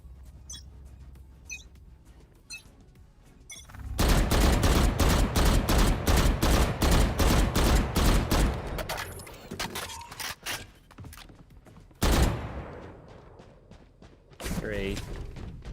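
Rapid automatic gunfire in Valorant, fired through walls, rattles loud and dense for several seconds, then breaks into scattered single shots and short bursts among lighter game sounds.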